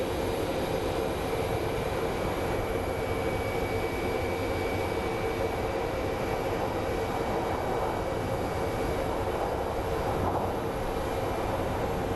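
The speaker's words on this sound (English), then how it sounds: "here comes a 737" A Boeing 737 airliner near Phoenix Sky Harbor International Airport produces a steady, broad engine roar, sustained and moderately loud for the whole stretch, with no voices.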